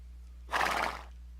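A horse injured in a crash in the Red Dead Online video game gives one short, shrill whinny lasting about half a second over a low steady hum.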